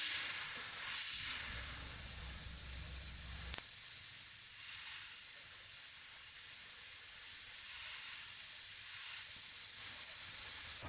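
Steady airbrush spray at 1 bar (15 psi) laying down paint for freehand camo on an Aventus airbrush, a continuous even hiss running the whole time with a brief low rumble early on.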